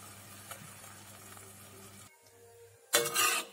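Eggplant tamarind kuzhambu cooks in a pan with a quiet, low sizzle that briefly stops, then returns in a short, louder hissing burst.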